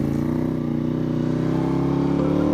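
A 270-degree crank parallel-twin motorcycle engine with a Ducati-like lumpy beat runs steadily and loudly throughout, a continuous thrumming rumble with a slight shift in tone near the end and no voices.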